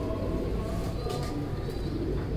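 Pigeons cooing in a loft in Gujranwala, low throaty coos blending into a dense, close, continuous murmur with faint background voices.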